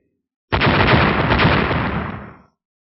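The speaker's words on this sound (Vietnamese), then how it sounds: "Liên tiếp những tiếng nổ ầm ầm truyền ra, trên tinh không vang lên những tiếng nổ cực lớn" A single loud, booming blast that starts abruptly and rumbles on for about two seconds before fading out.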